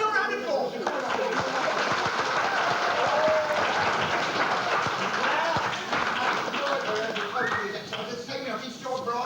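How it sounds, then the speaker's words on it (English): Applause from an audience at a church pantomime, a continuous patter of clapping running throughout beneath a performer's talking voice. "Oh, give it a round of applause."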